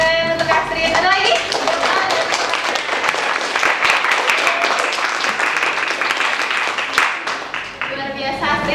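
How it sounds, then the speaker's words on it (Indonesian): A classroom group claps during a counseling lesson, dense steady hand clapping across the whole stretch, close and loud, with a few voices talking over it at the start and end. "Tepuk tangan untuk Astrid"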